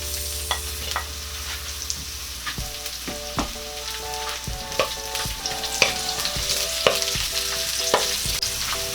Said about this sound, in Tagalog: Ngayon po na nag golden brown na po ang ating bawang, ay pwede na nating igisa ang ating sibuyas.